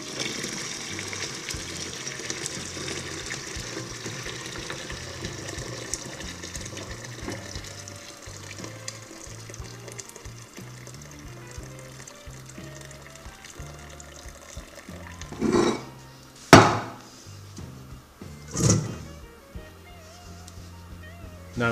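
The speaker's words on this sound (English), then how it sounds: "Pour slowly so that you don't hurt yourself." Broth of beets, chard, Brussels sprout stems and carrots pours from a heavy pot in a steady liquid stream, ending in a few louder splashes and clunks.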